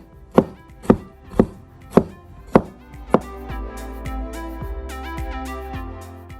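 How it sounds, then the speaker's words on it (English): A knife slices ginger into thin strips on a board, starting with six sharp, evenly spaced chops and then giving way to lighter, quicker cuts. The cutting is close and there is no talking. "1 thumb of ginger. Slice, cut into thin strips."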